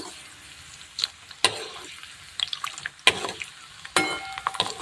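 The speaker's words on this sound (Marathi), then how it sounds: "लसूण छान असं तळून घ्यायचं आहे मस्त लालसर रंग येईपर्यंत" Garlic frying in a pan until reddish, a steady soft crackling sizzle broken by a few sharper stirring scrapes and bursts, close and moderately quiet with no talking.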